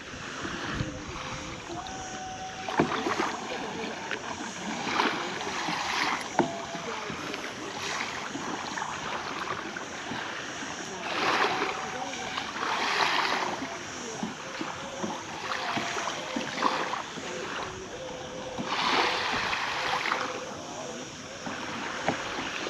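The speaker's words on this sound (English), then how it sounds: "As they paddle away, going around the headland there" Paddlers stroke away across the sea off a headland at El Arenal, Mallorca, with soft splashes and swishes of water at irregular intervals over constant wind noise and gentle sea ambience, fairly faint and at a distance.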